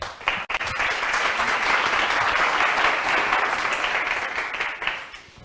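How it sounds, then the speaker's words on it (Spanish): Audience applause for a Spanish talk on art by Miguel Ángel Cajigal, a steady, dense wash of clapping from a full room that holds for several seconds, then thins toward the end. "un aplauso para Miguel Ángel Cajigal, el barroquista"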